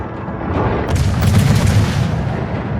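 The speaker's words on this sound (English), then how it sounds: "Now it looks like he's firing armor piercing at me" Armor-piercing shells fired by an enemy cruiser in a naval combat video game, heard as a rumbling salvo of muffled booms over a dense wash of battle noise, swelling in the middle of the stretch.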